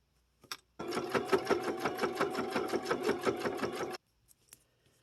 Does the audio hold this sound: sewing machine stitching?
yes